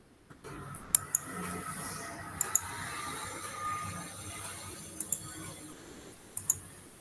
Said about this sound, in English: Click on the image collection.